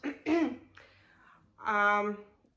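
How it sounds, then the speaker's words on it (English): Two rough coughs or throat clears from a sick person sound close by, separated by a short pause. "I'm sick, so I will be always coughing"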